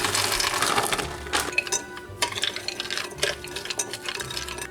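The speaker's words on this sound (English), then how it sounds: "There are the chickpeas. We'll just stir that together." Raisins and chickpeas stirred together in a bowl, a run of soft scraping and clinking strokes that come close and fairly loud, with brief pauses between them.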